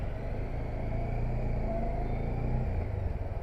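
Steady, continuous rumble of a Bajaj Dominar 400 motorcycle engine on a test ride, low and even with a slight rise in revs, heard up close without talk.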